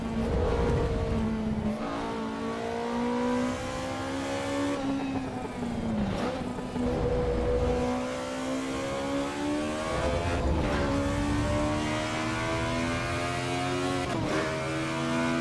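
Ferrari F40 engine in the racing game Assetto Corsa Evolution: a loud, close, harmonically rich engine note that revs up and down repeatedly, climbing through the gears with brief dips at shifts around six, ten and fourteen seconds.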